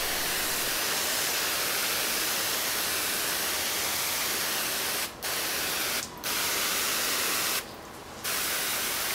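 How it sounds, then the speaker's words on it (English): A garden pump sprayer on its super fine mist setting gives a loud, continuous broadband hiss with three brief gaps where the spray stops and restarts. "It just leaves it in the super fine mist setting."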